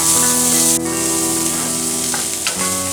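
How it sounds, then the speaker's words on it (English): Pasta sauce being seasoned with salt and white pepper sizzles and crackles steadily in a pan, loud and close, as it is stirred with a few soft scraping touches and no talking. "Give it a mix."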